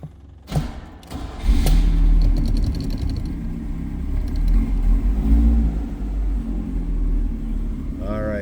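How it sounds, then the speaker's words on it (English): A 1976 Chevrolet Vega 2-door hatchback engine cranks with a thump, catches and settles into a loud, rumbling idle with a few revs close by, while someone talks over it. "let's fire this thing up"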